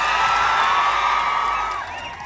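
A large crowd cheers and whoops loudly at a film promotion event on a college campus, a dense sustained roar that eases slightly toward the end.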